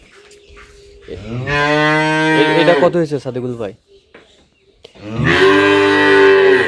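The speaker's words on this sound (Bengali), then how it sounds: "মাশাআল্লাহ বকনা বাচ্চা" A heifer calf at a cattle market moos in two long, loud, close bellows separated by a short pause, and a voice asks a question between the calls.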